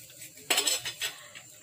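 A metal utensil stirs chicken adobo cooked in soy sauce and coconut milk in a pot, giving a few close, quick scraping clinks against the pot in a short run of strokes.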